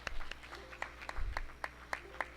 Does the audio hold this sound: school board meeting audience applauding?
yes